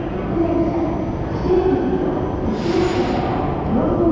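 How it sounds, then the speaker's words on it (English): Hokuto Express train pulling into Hakodate station, a steady loud rumble of rolling wheels and machinery with a brief hiss of air midway, no voices. "The train has arrived."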